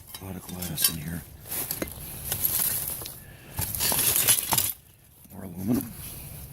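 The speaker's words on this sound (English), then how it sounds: "Yeah, a lot of glass in here." Glass and metal scrap clinking and rattling as it is sorted by hand during street scrapping, with scattered bursts of clatter and a short pause, fairly close.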